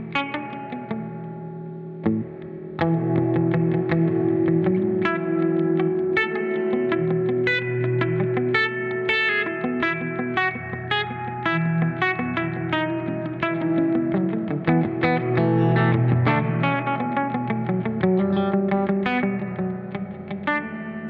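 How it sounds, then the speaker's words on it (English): Gamechanger Audio Light Pedal in feedback mode, its reverb tank self-oscillating under played guitar: a loud, continuous, distorted, ringing drone with tonal swells and rapid picked notes layered on top, sustaining for about twenty seconds without speech. "What this does is it sends the reverb tank into self-oscillation."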